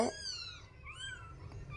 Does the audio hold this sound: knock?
no